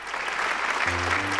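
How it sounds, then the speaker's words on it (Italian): Studio audience applauding during an Italian television show, steady dense clapping throughout, with a low sustained tonal hum entering near the end. "Hai visto, no? Come è scattato l'applauso?"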